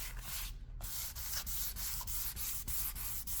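Light hand sanding strips an existing finish from wood, making a repeated rhythmic scratching rub of quick back-and-forth strokes with a short pause near the start. It is close but fairly quiet, with no voices.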